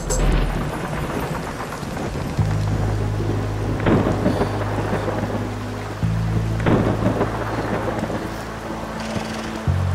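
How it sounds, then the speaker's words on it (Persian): Heavy rain pours down in a steady roar while deep rolls of thunder rumble repeatedly through it, loud and close throughout. "بارون خیلی شدیدی بود مگه نه بیلو؟"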